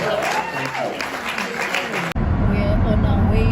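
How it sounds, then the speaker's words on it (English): Audience applause at a professional speakers' school reunion, a short burst of clapping under voices that cuts off abruptly partway through, replaced by a steady road and engine rumble. "So please give this a round of applause."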